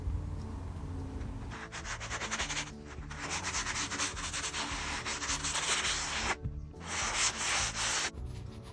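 Rough, rhythmic scraping of sandpaper across wood and dried wood filler over screw heads, in repeated strokes with short pauses, close and steady.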